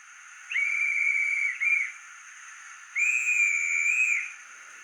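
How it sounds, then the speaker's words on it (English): A shrill guard's whistle from a Bachmann 57xx Pannier Tank model train's sound system blows three times: a long blast, a quick short one, then another long blast, clear and close over faint hiss. "So we got guard's whistle,"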